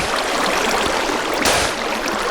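Flowing water in Minecraft makes a loud, steady rushing stream sound that runs without pause through the short stretch, with a brief brighter splash near the middle and no talking.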